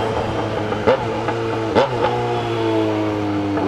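A vehicle revs and accelerates on a busy road in heavy traffic, producing a steady, close engine drone with a few sharper bursts of throttle.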